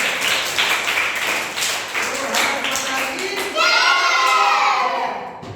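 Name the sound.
children clapping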